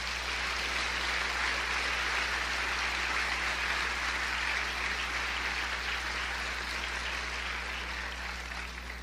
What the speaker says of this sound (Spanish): Denle otro aplauso al Señor.